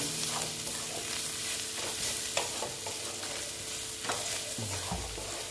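Dried loitta fish frying with turmeric in a pan, a steady close sizzle under repeated scraping strokes of a stirring utensil, with no voices.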